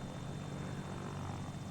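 Propeller airplane in a flight simulator game, a steady droning buzz of the engine and prop that is continuous and fairly faint.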